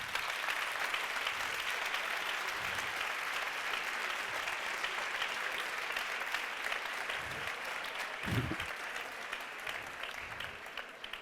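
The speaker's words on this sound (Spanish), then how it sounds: "Muy bien, pues unos aplausos para Jano," An audience at a talk applauds speaker Jano García, a sustained wash of many hands clapping at an even level, with a few low thumps and murmurs underneath.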